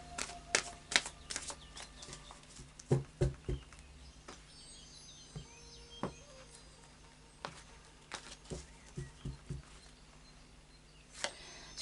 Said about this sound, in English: a final shuffle of the Psychic Tarot now.